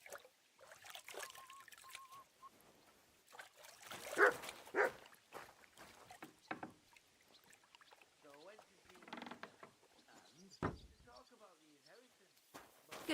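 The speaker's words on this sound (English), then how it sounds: "Call off that dog!" A dog barks in the medieval video game Kingdom Come: Deliverance 2, a few scattered woofs amid quiet ambience, with characters talking intermittently around them.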